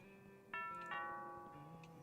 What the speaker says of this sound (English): and then the doorbell rings.